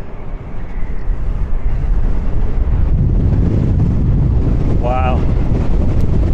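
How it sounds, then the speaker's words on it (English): Strong wind after Storm Lilian roars and buffets across Blackpool's seafront, a loud, continuous gusting rumble close to the microphone, with a brief whistling tone partway through and a short exclamation from a voice. "It's certainly breezy in Blackpool this morning. Just listen to that whistling there through"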